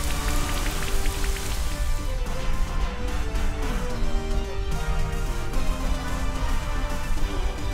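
Rain falls steadily from the Rain Dance move in the Pokemon Sword video game, a dense, constant patter of drops with a simple game melody playing beneath it.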